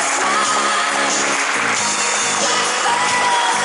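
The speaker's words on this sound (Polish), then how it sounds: "dla nich też wielkie brawa" Audience at the Effector Kielce volleyball team presentation for the 2015/2016 season, applauding and cheering in a dense, loud, continuous roar with whoops and shouts throughout.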